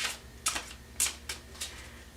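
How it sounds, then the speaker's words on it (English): A deck of tarot cards is shuffled by hand, giving a few crisp, papery slaps at uneven intervals, quiet and close, with no speech. "See if I can shuffle without throwing them all over the place."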